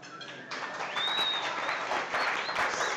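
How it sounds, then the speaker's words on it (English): A live audience at a chef competition game show claps in a steady, dense burst of applause lasting several seconds, with faint voices and whoops mixed in. "Let's give them a big round of applause."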